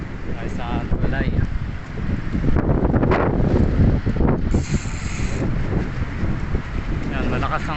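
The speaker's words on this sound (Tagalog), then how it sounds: "malakas ang hangin kaya doble ingat" Strong wind buffets the microphone on a bridge, a loud continuous roar with gusting swells throughout.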